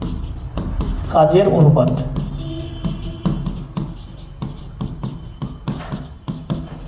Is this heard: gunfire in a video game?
no